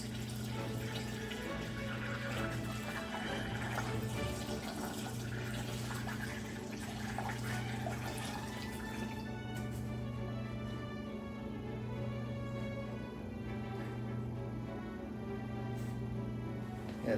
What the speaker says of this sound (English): Now that we're sealed up, let's start pouring in our coolant.